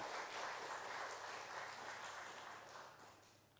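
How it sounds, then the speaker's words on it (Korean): A church congregation at a Sunday service claps in praise, a broad, even patter of many hands that fades gradually over a few seconds, with no talking. "하나님께 영광의 박수를 드리겠습니다"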